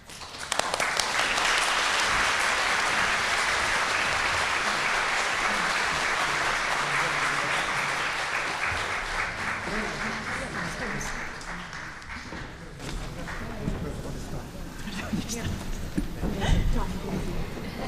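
Audience applause at a 2019 wrap-up panel discussion, a sustained dense wash of clapping that holds steady for most of the stretch, then thins and fades toward the end with some talk underneath.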